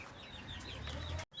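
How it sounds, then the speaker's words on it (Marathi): A hen and her young chicks on a farm give brief, soft clucks and peeps, heard faintly and close by for about a second. "हे आमचे पिल्लं आहेत कोंबडीचे."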